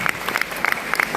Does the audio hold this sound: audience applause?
yes